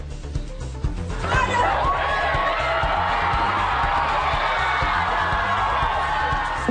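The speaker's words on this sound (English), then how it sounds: "Demonstrators cheering as the statue fell to the ground" Demonstrators outside a courthouse in Durham, North Carolina cheer and whoop as a nearly century-old Confederate statue is toppled. A loud, sustained crowd roar swells after the first second and holds steady, with a low broadcast hum underneath.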